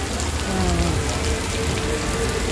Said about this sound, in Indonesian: Masih hujan teman-teman.